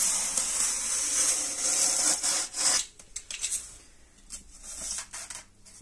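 A knife slices through a board of polyflex insulation for a custom handmade fireplace, producing close, scratchy rasping strokes, a long steady rub followed by shorter choppy cuts, fairly loud with no talk.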